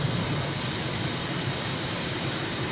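Steady broadband roar of an aircraft engine climbing out after takeoff from Luanda in Microsoft Flight Simulator, continuous and even in loudness throughout.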